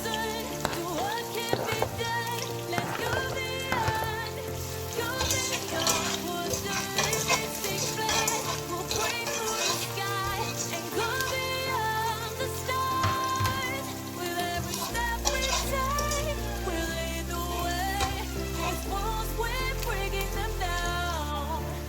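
Onions sautéing in a pan with garlic for chicken noodle soup, a steady crackling sizzle throughout with occasional utensil clatter, close and continuous, a low background hum in the later part, no speech.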